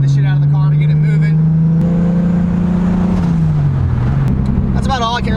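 A loud 700 hp 2JZ-GTE-swapped Lexus IS300 engine drones steadily, its pitch rising slightly then dropping, with brief higher revving bursts near the start and end.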